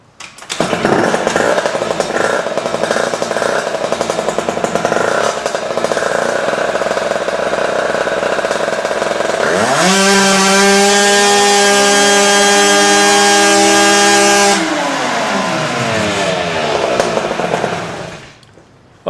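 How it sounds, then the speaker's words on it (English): A quad bike engine runs on a dyno, a loud steady drone that climbs sharply in pitch midway as it revs up, holds high for several seconds, then winds back down and cuts off near the end. "now what we're going to do is we're going to start the quad up"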